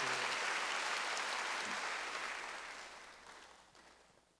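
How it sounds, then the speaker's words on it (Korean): A church congregation applauds during a Wednesday worship service, a dense wash of clapping that starts full and loud, then thins and fades out over the last couple of seconds. "박수 하나 더 주세요"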